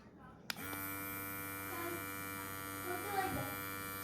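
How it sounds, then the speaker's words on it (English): Handheld vacuum sealer for food switching on with a click and running steadily, a constant electric hum and buzz with a whine while drawing air out of a bag of meat, close and continuous. "this is what it looks like when you try to do the vacuum seal."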